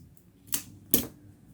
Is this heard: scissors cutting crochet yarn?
yes